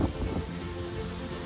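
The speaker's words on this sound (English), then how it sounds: "There's the thunder." Thunder rumbles low and continuous beneath steady rain and wind buffeting the microphone during an outdoor storm, with no one speaking.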